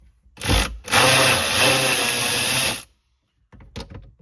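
Electric ratchet fitted with a 9/32 socket removing a fastener on a 2018-2021 Ford Expedition: a short whirring burst, then a sustained motor whine of about two seconds, and a brief tail of rattling afterward.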